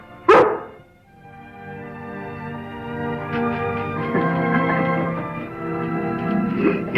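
A dog gives a single sharp bark near the start, followed by a sustained tonal, whining sound with rising and falling pitch that continues to the end.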